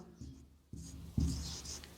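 A pen or chalk writes an equation in short bursts, three or four quiet scratching strokes separated by brief pauses, close and alone.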